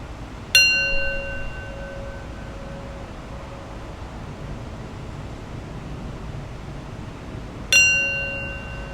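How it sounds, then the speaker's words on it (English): A meditation bell is struck twice to close a practice session, each ring a clear bright strike that slowly fades over several seconds, heard alone over a faint hiss. "And I'll close practice with 3 rings of the bell."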